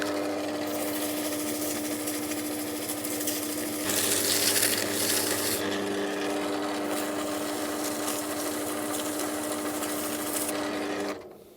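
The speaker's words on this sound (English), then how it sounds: "This is an 80 grit paper, and I'm just going to try this and see if it does get us anywhere faster." A classic Mini 1380cc engine part is sanded with 80 grit paper, giving a loud, steady abrasive whirring that swells briefly around the middle and cuts off just before the end, with no talking.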